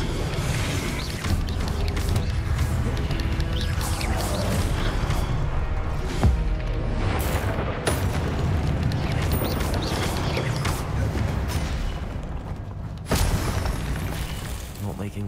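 Confringo blasting spells in Hogwarts Legacy hit during a busy duel: sharp, shattering impacts land every few seconds over a constant clatter of game effects, with voices mixed into the din.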